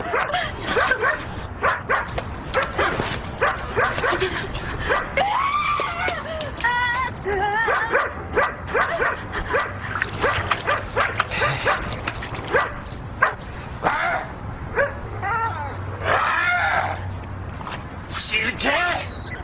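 A dog barks in short yips and lets out whimpering whines over nearly twenty seconds, close and fairly loud, mixed with people talking throughout.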